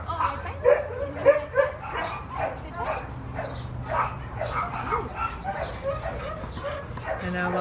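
Gauge, a dog awaiting rescue, gives a string of short whimpers and high yips close by. A person talks to him in a soft, affectionate voice over the top.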